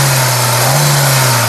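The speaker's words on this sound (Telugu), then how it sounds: "ఒకసారి ఈ యాక్సిలరేటర్ ఇచ్చి కారు ఇంజన్ యొక్క నాయిస్ అనేది వినిపిస్తాను" A 2016/17 Hyundai i20 Asta (O) petrol engine runs as the accelerator is pressed, producing a loud, steady, close hum with a firm low drone and no talk over it.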